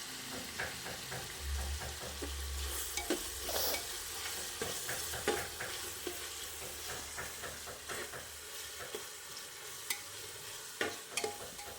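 Green chillies and onions sizzle steadily in hot oil for a village-style chicken biryani, with a constant frying hiss and occasional scraping stirs throughout.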